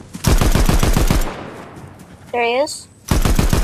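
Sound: shotgun shots in the video game Fortnite

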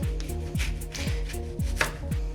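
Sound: knife slicing lemon

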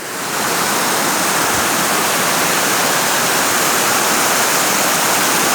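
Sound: waterfall, rushing water sounds

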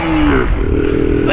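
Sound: motorcycle engine

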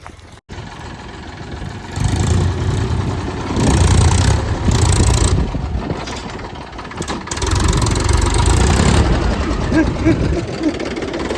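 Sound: tractor engine running in a field

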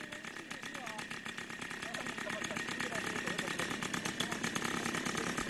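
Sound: helicopter engine roar and rotor

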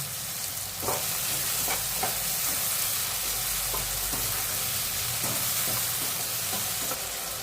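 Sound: tomatoes frying and being stirred in oil

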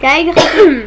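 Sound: sneeze

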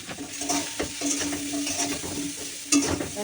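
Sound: filling being stirred and fried in a pan

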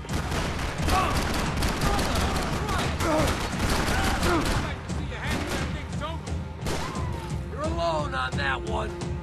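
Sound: gunfire in the video game Max Payne 3

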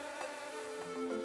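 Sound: flies buzzing in a cartoon

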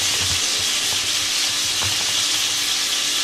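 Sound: burger patties sizzling in a pan after flipping

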